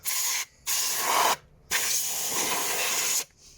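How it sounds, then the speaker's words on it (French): A can of compressed dry air sprays into a desktop PC in loud, close hissing bursts, a short blast followed by two longer ones, with brief silences between them. "on prend notre bombe d'air sec"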